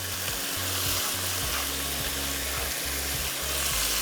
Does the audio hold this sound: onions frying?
yes